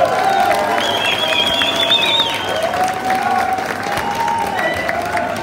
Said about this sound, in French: Pour applaudir